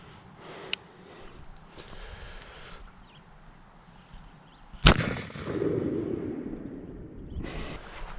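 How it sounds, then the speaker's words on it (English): A LeMat revolver firing buckshot at twenty feet: one sharp, loud report cracks out midway, followed by a lingering rumble and echo, with a smaller click-like pop earlier in the otherwise quiet outdoor scene. "And now I'm shooting at 20 yards, or 20 feet."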